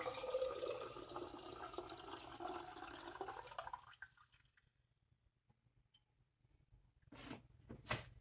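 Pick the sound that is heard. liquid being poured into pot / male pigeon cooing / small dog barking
liquid being poured into pot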